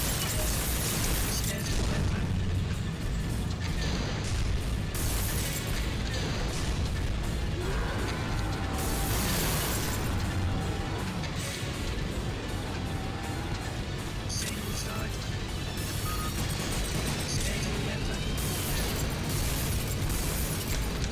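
Rockets fired in rapid succession and exploding in the game Dino Stalker, a dense barrage of booms, crashes and bursts with sharp blasts recurring every few seconds, loud and sustained over about twenty seconds.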